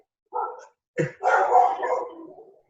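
A person imitates a dog during a sound-guessing game, giving a short yip, then a sharper bark that runs into a longer drawn-out howl-like bark, close and clear.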